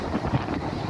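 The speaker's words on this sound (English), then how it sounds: "Pretty windy," Hurricane Ian wind at a Sarasota beach buffets the microphone as a steady, dense roar with no talking.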